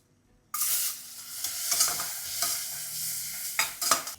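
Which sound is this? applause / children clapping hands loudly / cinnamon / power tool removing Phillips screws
cinnamon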